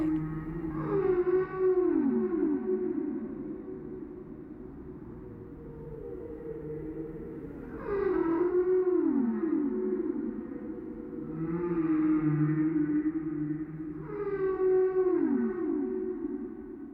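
Humpback whales off Hawaii sing long, loud moaning and sweeping calls in repeated phrases, each rising and falling tone returning every few seconds over a low steady underwater rumble.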